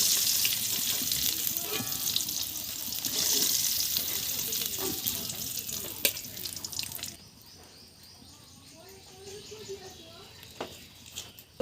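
Potatoes frying in hot oil while paneer waits nearby, a steady hissing sizzle that drops to a quieter crackle halfway through, with a few clinks and a faint voice underneath.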